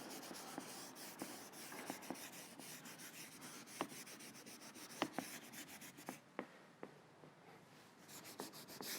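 Crayon shades the background of a drawing on paper, a quiet, continuous scratchy rubbing close by with scattered light taps and strokes and no voices.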